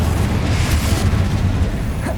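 A fiery Incendio spell blast erupts in Hogwarts Legacy on PS5, a loud, continuous booming roar with crackling burst texture that fills the whole moment without letup.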